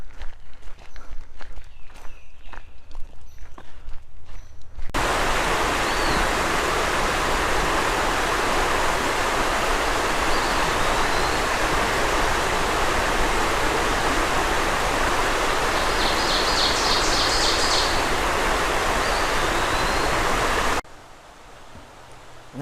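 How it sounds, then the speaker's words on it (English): A small creek in Jacobsburg State Park, Pennsylvania, rushes loudly and steadily at close range, preceded by a few seconds of footsteps on a trail before the water noise dominates. "there's a little creek down there"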